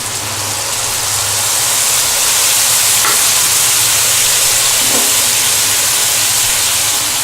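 A loud, steady sizzle of food frying in a pan, with a continuous hiss and a couple of faint stirring knocks.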